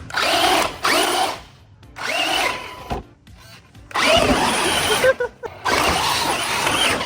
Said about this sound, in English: That does a wheelie on concrete.